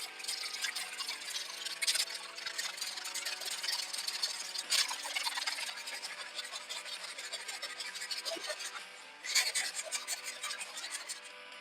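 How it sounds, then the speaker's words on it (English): Drywall joint compound is sanded by hand over taped seams, producing a continuous close rasping scrape with repeated strokes and brief louder squeaky swipes, steady throughout with no talk. "Well, the sanding is done."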